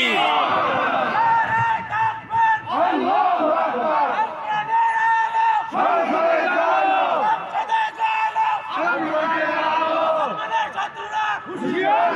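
A large crowd at an outdoor waz mahfil roars the takbir, Allahu Akbar, in repeated loud unison chants, each call rising and falling in waves over about twelve seconds, with a preacher's amplified voice leading between them.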